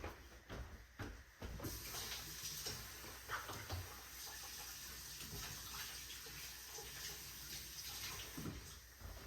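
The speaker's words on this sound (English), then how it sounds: "Let me rinse my hands off really quick." Hands rinsed under a running kitchen faucet while making a coconut pie, with a steady close stream of water that starts sharply and continues without pause.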